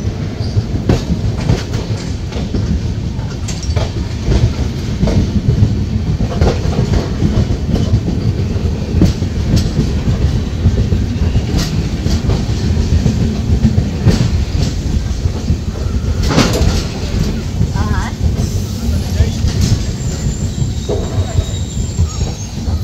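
Mithila Express 13021 train running on rails near Sagauli Junction, heard from inside a coach: constant loud rumbling and rattling with intermittent clicks and squeals, a voice occasionally faintly audible underneath.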